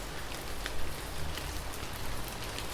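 Steady rain falls in a dense, even patter of drops on surfaces, with soft low rumble underneath and no voices.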